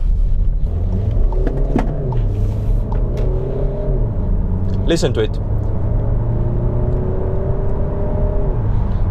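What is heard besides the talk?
diesel SUV engine rattle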